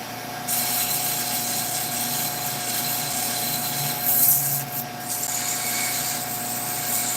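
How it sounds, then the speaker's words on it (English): Thin wooden piece, likely a top, sanded with a power tool: a steady, continuous abrasive whir with a constant hum throughout, fairly loud and close, with slight scraping fluctuations and no talking. "let's get this sanded"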